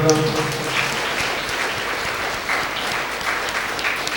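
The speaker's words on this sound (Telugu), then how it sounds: "మన విచారణ ఫాదర్ గారికి గట్టిగా చప్పట్లు కొడదాం" Dense, steady applause from a congregation at a Catholic healing Mass, many hands clapping together at an even level for several seconds.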